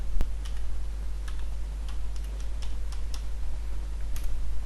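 Someone typing a password on a computer keyboard while joining a PC to a Windows Server 2016 domain; a handful of light, spaced key clicks over a steady loud hum.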